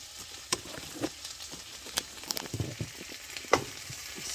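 Onions with potatoes frying and caramelizing in a pan, a steady soft sizzle broken by scattered pops and scraping stir sounds, close by, no voices.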